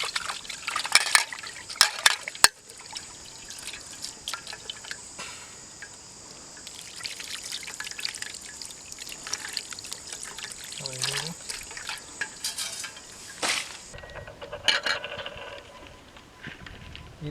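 Water trickles and pours while fish fry is being prepared outdoors, with splashy bursts, stirring and clinks of pots, and talk heard through parts of it.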